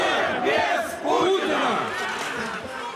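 A large crowd at a Navalny protest rally in Russia chants and shouts together in loud, surging waves that rise and fall across the moment.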